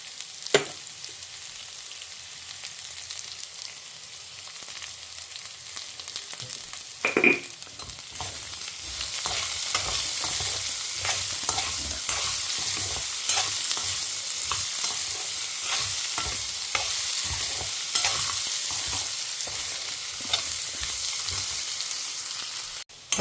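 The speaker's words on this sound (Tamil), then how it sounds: "ஓரளவுக்கு நல்லா வதங்கியிருக்கு." Vegetables sautéing and being stirred in a pan for a vegetarian Tamil home lunch, with steady sizzling and repeated scraping stir strokes that grow louder and denser after a quiet start, heard alone without talk.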